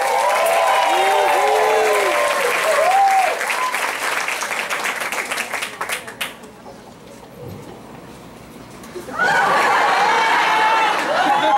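Loud studio audience applause and cheering greet two singers coming on stage, a dense roar of clapping that dips and thins in the middle before swelling back to full strength.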